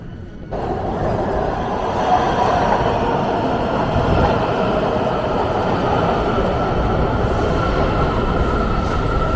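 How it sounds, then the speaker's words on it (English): A Washington DC Metro subway train rolls along, its loud, steady rumble filling the car from start to finish, with wheel noise and a faint high whine over the roar. "Alright, back on the Metro."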